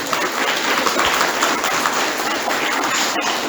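Audience applause for a school music teacher at a children's summer music concert, a dense steady wash of clapping throughout with no voices standing out.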